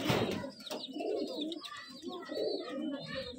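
Several Rajshahi Giribaz pigeons coo in soft, repeated rolling phrases, close by, with faint chirps and a brief thump at the start.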